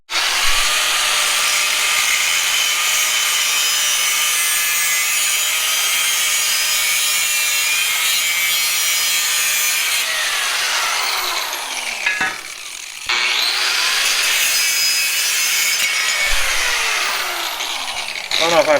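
An angle grinder cuts through scrap metal pieces for a buggy build, a loud, continuous, close whine with a brief pause before cutting resumes.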